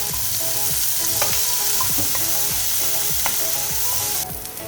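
Chopped tomato sautéing in a pan for moringa leaf soup, a steady close sizzle with repeated scrapes of a spoon stirring through it, without any talk.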